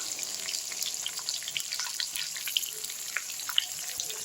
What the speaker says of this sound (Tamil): சாம்பார் வெங்காயமும் காய்ந்த மிளகாவும் ஒன்றா போட்டுக்கலாம்